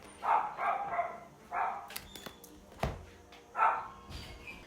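A female dog indoors lets out several short, moderately loud whimpering yips and soft barks in an irregular series, with a few faint knocks and clicks between them.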